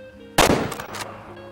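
A single loud, sharp hunting rifle shot in the hunting video game Way of the Hunter, with a short reverberant tail fading over about half a second; no talk.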